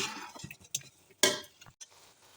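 Chicken korma masala and blended paste being stir-fried in a pan, with scattered clinks and scrapes of a spoon against metal, a few sharper knocks, fairly quiet and close, no talking.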